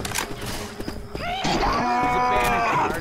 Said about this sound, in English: I hear a charger.